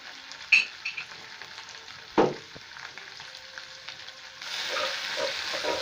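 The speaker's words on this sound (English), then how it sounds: "We're going to stir this together." Beef simmering with tomato paste in a pot, stirred with a spoon; a soft sizzle sits under a few sharp knocks of the utensil against the pot, then the frying swells louder near the end, with no voices.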